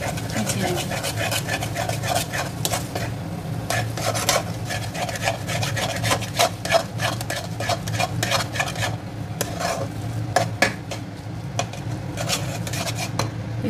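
Boiled vegetables for Mumbai-style pav bhaji being stirred with Kashmiri chilli, turmeric and hot chilli powders in a pan, a spoon scraping and clinking against metal in quick repeated strokes, close and fairly loud throughout.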